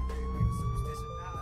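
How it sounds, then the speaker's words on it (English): A steady electronic police car siren tone in a video game, holding over a low engine rumble, continuous and fairly close throughout the short moment. "Let me turn my siren."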